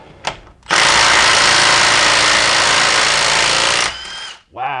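A Milwaukee M18 Fuel 3/8-inch compact impact wrench hammers a bolt loose in one sustained, loud buzzing burst of about three seconds, with brief blips of the tool before and after.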